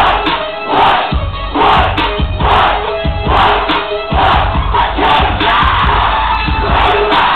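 A concert crowd at a live rock show in Torino yells, whoops and cheers in loud, surging waves that swell and dip, with no clear speech over the roar.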